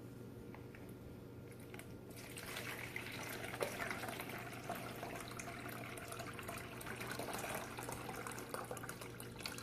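About five cups of room-temperature water pour into a bowl on a biology lab bench, making a faint, steady splashing rush that runs unbroken and slightly louder midway, with no talk.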